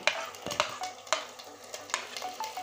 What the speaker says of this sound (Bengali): এখন আমি এই আদা বাটা রসুন বাটাটা দিয়ে দিচ্ছি